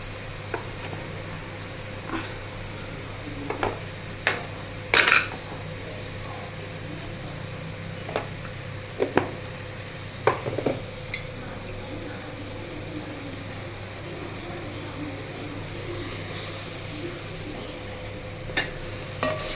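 Food with homemade ground chili powder fries on a low flame, a faint steady sizzle from the pan broken by scattered sharp clicks and scrapes of stirring, heard close and quiet over a long stretch.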